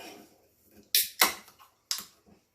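A can of Moon Dog Cake Hole Black Forest Stout beer being handled and opened: a few sharp close clicks and metallic snaps with a brief fizzy hiss, separated by short quiet gaps.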